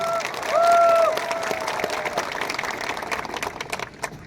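Crowd at a first political rally applauding themselves, a broad wash of clapping with some cheering, rising briefly then thinning out toward the end.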